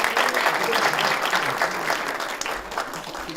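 A university event audience claps steadily, a dense wash of hand claps at a fairly loud, even level with faint voices underneath.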